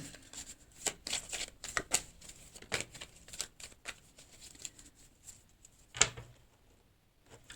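Tarot cards shuffled and cut by hand: quick papery riffles and soft slaps come in uneven bursts, with one sharper snap of the deck near the end, close and fairly quiet.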